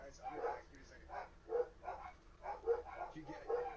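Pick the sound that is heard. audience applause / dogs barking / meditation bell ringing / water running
dogs barking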